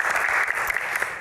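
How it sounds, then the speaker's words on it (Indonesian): Studio audience applause at an Indonesian talk show taping, a dense steady wash of many hands clapping at close range with no voices over it. "Tepuk tangan teman-teman."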